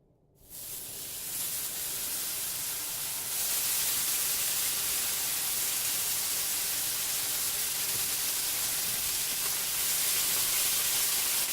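Four strips of bacon frying in a pan for a big breakfast bowl give off a steady, bright, close sizzle that swells after a quiet start and holds evenly throughout, with no talking.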